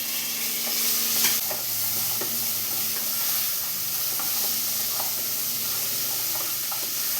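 Green beans stir-fried in a pan for a potato mezhukkupuratti, a constant hissing sizzle with periodic scraping and tossing strokes of a spatula, near and steady, no voices.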